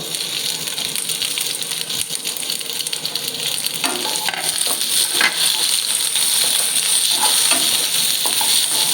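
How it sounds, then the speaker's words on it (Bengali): Onion, capsicum and green chilies frying in oil over medium flame, a loud continuous crackling sizzle with scattered sharp spatters and light clinks of stirring throughout. "পেঁয়াজটা একটু এই যেরকম ভাজা হয়ে গেছে এরপর আমি এই ক্যাপসিকাম কাঁচা লঙ্কা এগুলো সব দিয়ে দেবো"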